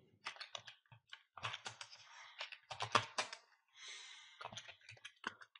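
Keystrokes tapped out on a computer keyboard while a command is entered on a Kali Linux machine, in quick irregular bursts of close, crisp clicks separated by short pauses, with no talking.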